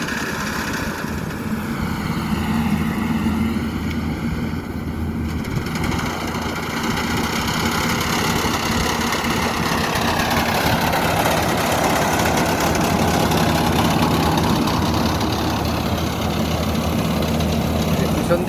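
A rice combine harvester's engine runs steadily nearby in a paddy field, a continuous loud low mechanical drone with shifting tonal whine, while someone talks over it throughout.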